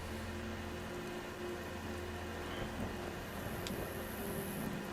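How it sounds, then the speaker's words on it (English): Rain falls in the video game Skyrim, a steady soft patter with scattered droplet ticks over a low background hum, heard alone without talk. "It do be raining."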